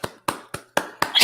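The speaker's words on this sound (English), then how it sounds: "I'm clapping for the 10 issues, by the way." One person clapping hands five times in a slow, even rhythm, close and crisp with short gaps between claps.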